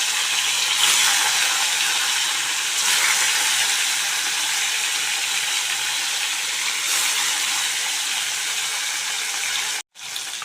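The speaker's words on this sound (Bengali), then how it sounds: "এবার আমি এটা ভেজে নিচ্ছি। তেলটাও গরম হয়ে গেছে।" Vetki fish, marinated in lemon juice, frying in hot oil in a pan: a steady, dense, loud sizzle that continues without break, with a brief drop near the end.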